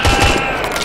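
Brief, close burst of rapid gunfire in Splinter Cell Blacklist's co-op mode, loud and sharp for under a second.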